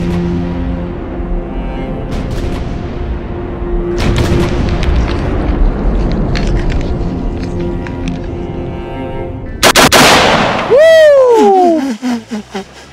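A single massive boom from a four bore rifle fired outdoors cuts sharply through a rumbling, busy background, then decays into ringing, descending tones.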